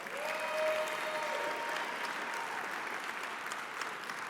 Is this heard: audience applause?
yes